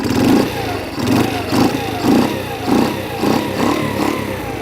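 An electric-start motorcycle engine runs close by with a rumbling, rhythmic pulse that swells and dips about twice a second, loud and steady throughout.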